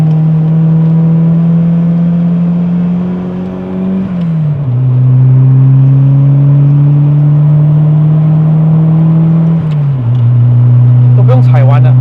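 A 1989 Nissan 180SX engine pulls hard under throttle from inside the car, its steady drone climbing in pitch, then dropping briefly at two gear changes before rising again, loud and continuous throughout.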